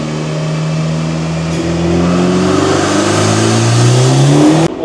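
A 2024 Acura Integra Type-S (DE5) with a carbon intake revs hard on a dyno, its engine note climbing steadily through a long pull, loud and close, before a gear shift and a sudden drop at the end.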